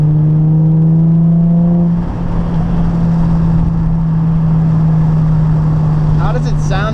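A Nissan 350z engine drones steadily from inside the car while driving, with a strong low hum that shifts partway through. A voice speaks briefly near the end.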